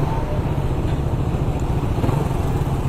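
A Raider 150 motorcycle, a drag-race-style bike, runs with a loud, steady, throaty engine drone that holds unbroken throughout with no clear talk over it.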